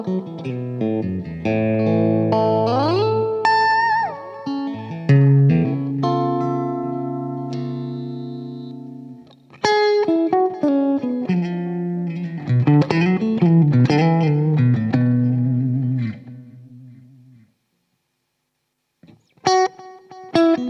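An electric guitar runs through a Mooer Ocean Machine pedal into a Blug stereo setup with heavy delay and reverb, playing sustained chords and melodic runs whose notes echo and wash out before a short pause and a new strum.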